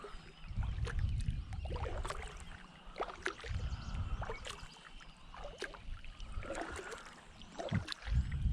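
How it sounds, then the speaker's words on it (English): Paddle strokes pulling a small boat through water while trolling a fishing line near surfacing fish, giving repeated splashes and gurgles at close range, steady and irregular, with no talking. "we have to paddle through"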